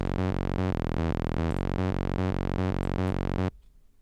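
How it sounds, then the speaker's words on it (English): A buzzy single sawtooth synth bass plays a simple repeating pattern of short, punchy hardstyle notes at a steady pulse, then cuts off abruptly into near silence. "There's only one saw wave here,"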